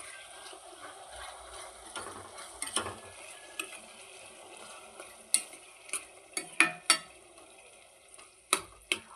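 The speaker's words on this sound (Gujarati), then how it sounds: "તેમાં ટમેટાની પ્યુરી નાખી દઈ આવીશું. એને હલાવી નાખશું." Tomato puree is stirred into a vegetable curry in a pan, giving faint soft scraping and stirring with a low sizzle, then a run of sharper clicks and knocks of the spoon against the pan toward the end.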